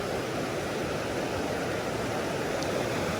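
A creek in the Angeles Forest, deep in places, flows and rushes in a steady, full wash of water noise with no pauses and no voices.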